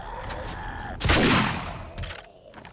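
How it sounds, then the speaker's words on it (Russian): A machine gun in 7 Days to Die fires one short, loud burst of rapid shots, then softer noises from the game follow. "Пулемет в таких моментах выручает."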